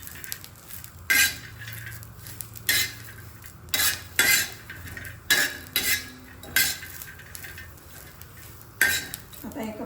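A spoon stirs green chilli thecha with peanuts in a pan with the gas turned off, giving loud, close metallic scrapes in irregular bursts over a faint background sizzle.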